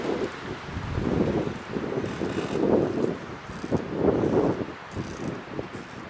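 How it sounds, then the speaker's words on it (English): Steady gusting wind roars around an outdoor wooded spot, rising and falling in broad surges with rustling through trees, no talking. "Yeah, it's pretty windy today."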